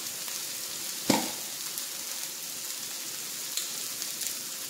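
Onions frying in a pan with ginger paste and garlic, giving a steady close sizzle throughout, with one sharp utensil clatter near the start and a few soft knocks later.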